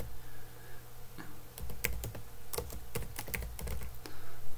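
Rapid, irregular clicking of keys on a computer keyboard as a website name is typed, close and fairly soft, with brief pauses between bursts.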